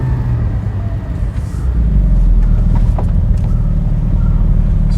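A Porsche 718 Spyder drives and slows to turn around, a close, deep engine rumble that swells partway through and then holds a steady, loud drone with road noise.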